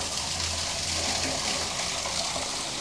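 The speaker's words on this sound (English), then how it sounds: "This valve, if I open, the water from there starts coming back again into this recharge well." Water pours from an opened valve into a rainwater recharge well beside a solar panel cleaning setup, a steady continuous gushing flow with no talk over it.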